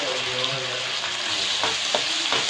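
Finely chopped tomato sautés with onions in a hot pan for goat intestine pepper fry, a continuous loud sizzle broken by a few scraping stirs near the end.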